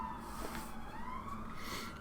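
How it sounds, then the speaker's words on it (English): Emergency siren wails faintly in the distance within a Football Manager 2020 stream, a single rising tone drifting over a low background hum, brief and with no talking. "And that's a lovely bit of sirens going off."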